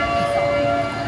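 A siren blares through the scare section of a Hersheypark attraction in Pennsylvania, a steady, loud sustained tone held throughout over a rumbling ride and crowd background.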